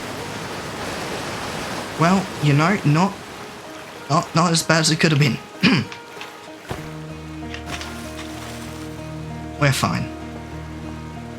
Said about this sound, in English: I'm moving away from the waterfall.